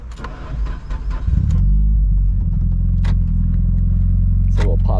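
A starter cranks briefly, then a 2006 Mitsubishi Lancer Evolution IX engine catches and settles into a loud, steady low idle close by.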